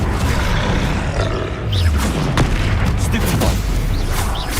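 Bombarda spell blasts in the Hogwarts Legacy video game: booming, roaring explosions over continuous dense battle noise, with a voice speaking briefly.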